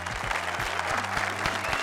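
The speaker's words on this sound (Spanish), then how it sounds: "Aplausos." Warm applause from a small group during a Spanish-language book discussion, steady hand claps filling the short moment at close range.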